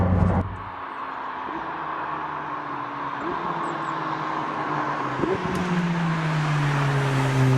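A McLaren 620R drives on a public road with its engine loud inside the cabin, climbing through several gears, each rising pull cut by a brief shift. No one speaks.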